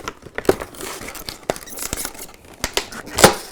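Crinkly plastic packaging of a model railway wagon being handled up close, with sharp crackles, rustles and snips in an irregular rhythm.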